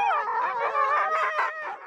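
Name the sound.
sled dog huskies barking and squealing before running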